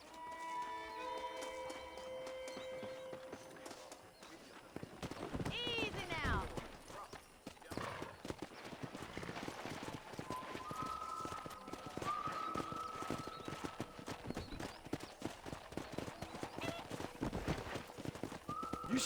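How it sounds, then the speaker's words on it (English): Horses in the Western video game Red Dead Redemption, with rapid hoof clip-clop and a whinny heard under steady talk, amid music and ambient game sounds throughout. "Let's see if we can't wrangle some horses."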